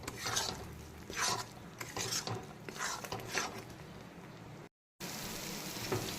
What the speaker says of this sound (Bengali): এখন আবারও পুরো মশলাটাকে 5-7 মিনিট সময় নিয়ে খুব ভালো করে কষিয়ে একেবারে মশলার চারদিক থেকে তেল ছাড়া পর্যন্ত কষিয়ে ভাজা ভাজা করে নিতে হবে।